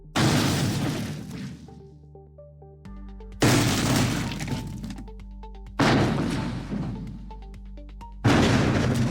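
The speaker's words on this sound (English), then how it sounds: "type "a big boulder drops and smashes a car," hit generate, and 4 sound effects will be produced." Four separate synthetic crashes of a big boulder dropping onto a car, each a loud, sudden smash of metal and shattering glass that rings and rattles as it decays, with a short gap between bursts.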